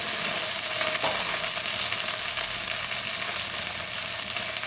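Ginger paste and split green chillies sizzle steadily in hot frying oil, a loud, continuous close-up crackle and hiss with no voices.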